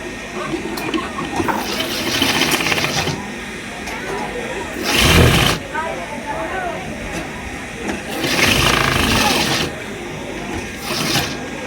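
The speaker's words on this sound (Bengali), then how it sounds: "দেখুন কত সুন্দরভাবে কলিটাতে সেলাই দিতে হয়" Sewing machine stitching a salwar kali panel, several loud whirring bursts of motor-driven stitching separated by quieter pauses, with someone talking through much of it.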